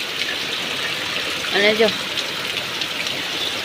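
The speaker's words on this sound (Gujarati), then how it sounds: "આખી રાત વરસાદ ચાલુ રહ્યો ને હજી બંધ નથી થતો" Heavy monsoon rain with storm winds pours down in a steady, dense hiss that fills the whole clip, and a voice speaks briefly in the middle.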